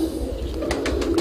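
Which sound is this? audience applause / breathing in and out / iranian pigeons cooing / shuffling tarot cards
iranian pigeons cooing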